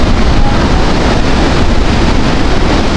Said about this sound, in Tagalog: Grabe ang hangin, oh.